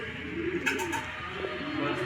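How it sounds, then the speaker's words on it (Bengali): Short-tailed pigeons coo close by in soft, rounded bursts, rising over a constant background hiss. "খাটো লেজের কবুতর।"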